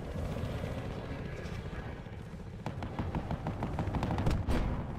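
Gunfire in the video game Battlefield: Hardline, with a run of rapid shots crackling over a low rumbling game background that grows louder toward the end.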